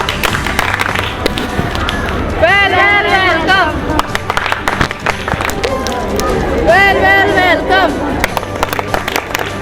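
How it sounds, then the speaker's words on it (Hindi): Scout troops at a camp welcomed with clapping and applause, a broad continuous crowd clatter throughout, with voices shouting a greeting over it and background chatter. "वेलकम, ताली बजा"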